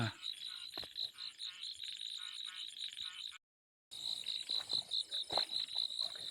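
Frogs croaking along a stream at night, a dense, steady chorus of rapid, rattling calls with insect-like trills, close and continuous, broken by a brief silent gap before resuming just as thickly.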